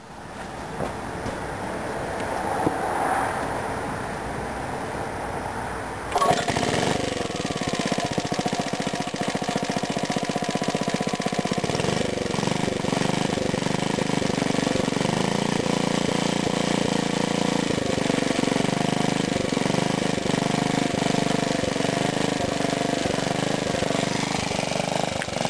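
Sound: 1950 Briggs NPR6 engine driving BSM gear pump

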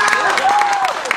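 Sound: audience applause for a dancer

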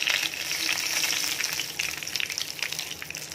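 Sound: cumin and dried chilli frying in hot mustard oil

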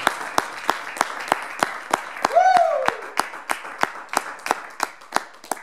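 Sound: applause

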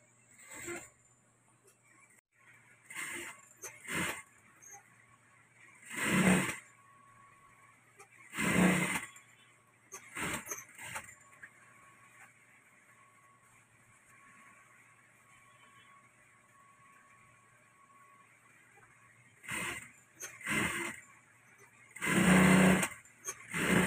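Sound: sewing machine double-stitching a garter shorts seam

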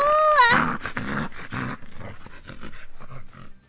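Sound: dog growling and barking

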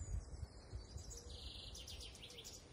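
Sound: birds singing

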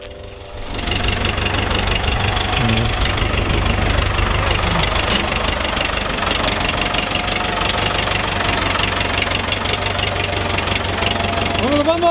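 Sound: tractor engine approaching

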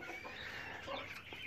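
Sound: Americana chicks clucking

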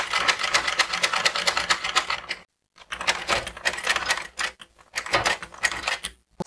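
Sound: sewing machine top stitching fabric

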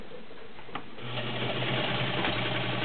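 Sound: vintage Domestic 1465 sewing machine running

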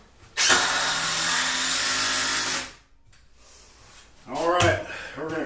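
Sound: drill driving a screw into loft railing

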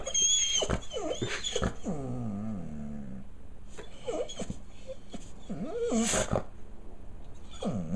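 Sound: dog reacting to the mailman

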